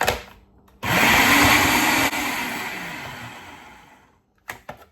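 A food processor whirs loudly as it grinds oats with a pinch of salt, starting abruptly, running steadily for a few seconds, then stopping and winding down, followed by a couple of faint clicks.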